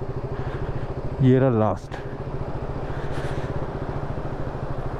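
A motorcycle idles with a steady low putter while being parked at a muddy spot near Gangotri Dham. Its engine briefly revs up and drops back, and someone talks over it.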